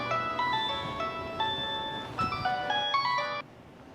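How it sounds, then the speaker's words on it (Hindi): A phone ringtone plays alone, a bright electronic melody of quick stepped notes that repeats and then cuts off abruptly. "अब कौन फोन कर रहा है?"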